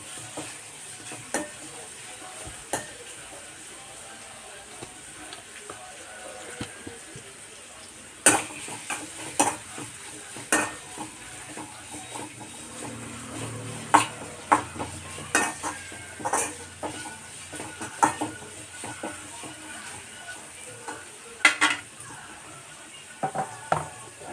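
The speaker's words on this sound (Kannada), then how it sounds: "ಜಾಸ್ತಿ ಏನು ಈರುಳ್ಳಿ ಫ್ರೈ ಆಗೋದು ಬೇಡ ಸ್ವಲ್ಪ ಫ್ರೈ ಆದರೂ ಸಾಕು" Onion fries in a pan for a buttermilk sambar, a faint, steady sizzle broken by repeated sharp clinks and scrapes of a ladle stirring against the metal, close by and without speech.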